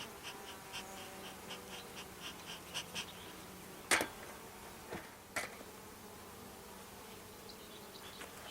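Honeybees in a nuc colony hum steadily around a queen cage, a faint, close, continuous buzz with a few sharp clicks and taps from handling the hive.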